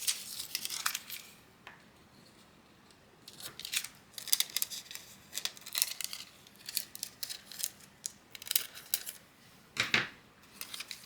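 A sheet of foil for laminator foiling is cut in half, giving a series of light, crisp snips and crinkles spread unevenly across a quiet room.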